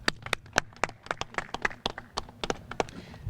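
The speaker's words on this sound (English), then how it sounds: "Let's give him a round of applause." Sparse clapping from a small audience at a grant celebration event for a Boys & Girls Club, distinct individual claps in an uneven rhythm, fairly close and moderate in level, with no voices.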